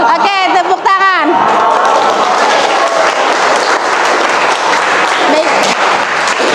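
Applause from a vocational high school classroom, a dense, loud burst of many students clapping that carries on steadily for several seconds, close by, with a brief voice and some chatter at the start.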